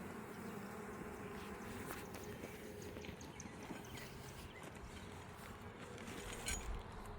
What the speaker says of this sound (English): I'm gonna get the broom to brush the bees off this